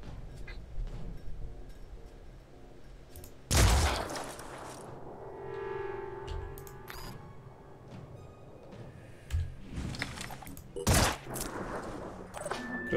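Gunfire in the Phoenix Point strategy game comes as a few loud, sharp bursts separated by quieter stretches of low rumbling game ambience and faint mechanical tones.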